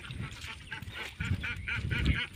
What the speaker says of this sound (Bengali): দেখুন কত হাঁস